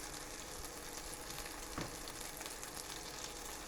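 Cheese-filled waffle batter cooks in a waffle iron with a steady, close, even sizzle and frying hiss, plus one brief louder crackle near the middle.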